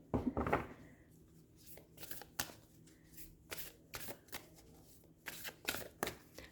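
Cards from the Work Your Light oracle deck by Rebecca Campbell are shuffled close by in quick, crisp riffling bursts with short pauses between them.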